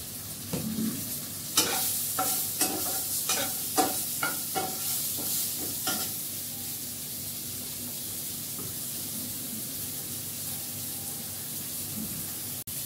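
Chow mein frying in a pan with sauce, stirred in a run of sharp scraping strokes over a steady close sizzle; the stirring stops partway and the frying hiss carries on alone.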